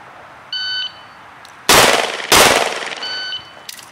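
Two loud, close pistol shots from a 2024 Five Yard Roundup shooting stage, fired with the support hand only, each a sharp blast with a short decaying tail, set between faint electronic beeps.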